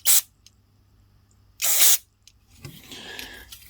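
Two sharp hissing bursts of aerosol cleaner sprayed into the emulsion tube of a Suzuki TF185 motorbike carburettor, close and loud, followed by a softer, rougher spray hiss.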